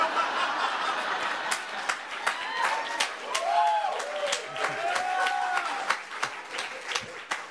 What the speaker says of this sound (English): Thank you for clapping at that angry joke.